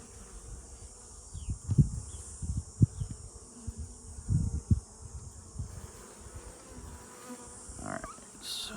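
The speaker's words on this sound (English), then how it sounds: "Ooh, that's a lot of bees." Honeybees buzz during a midsummer beehive inspection, a constant insect drone with louder passes as individual bees fly close to the microphone, plus occasional soft handling bumps and no speech.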